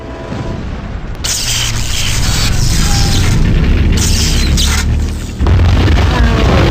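Energy blast detonating in the Marvel Ultimate Alliance game on Wii, a loud sustained booming roar with crackling bursts that cuts briefly and resumes as a heavy rumble.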